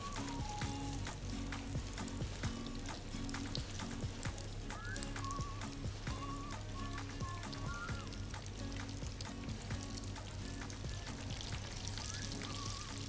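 Oil sizzles steadily in a frying pan while a bird is cooked, a constant dense crackle with faint tonal chirps and clinks scattered over it.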